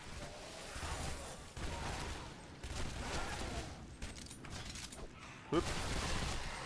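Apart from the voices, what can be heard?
dual Uzi gunfire in the video game Shadow Warrior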